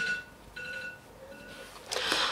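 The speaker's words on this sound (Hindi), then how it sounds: "सॉरी अलार्म बजन लग पिया सी।" A phone or clock alarm beeps in a series of repeated electronic tones indoors, faint at first, then joined by a louder burst of sound near the end.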